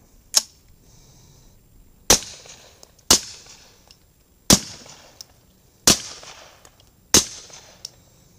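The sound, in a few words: CZ 75 SP-01 pistol firing subsonic rounds at paint can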